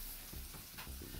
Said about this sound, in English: Once your fake butter is starting to bubble like this, you can add your shallots and your garlic.